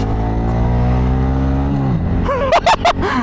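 Honda Grom motorcycle on its first ride, its engine droning steadily at low revs for about two seconds, then dropping pitch as it shifts and revving up in several sharp, loud bursts near the end.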